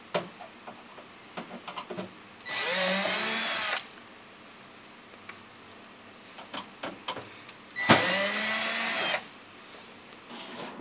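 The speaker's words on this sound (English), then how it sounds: "You do this by undoing the 8 screws using a Phillips head screwdriver." Two bursts of a powered screwdriver backing out screws from the condenser cover of a Sorrento vending machine, each whirring for about a second with a rising-falling pitch, separated by quiet clicks and handling noises.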